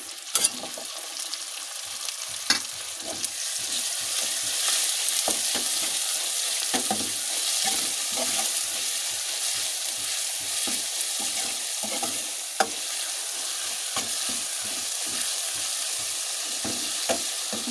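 Ground spices fry in a hot pan, making a steady, dense sizzle with frequent small scraping stir clicks throughout, loud and close, with no voices.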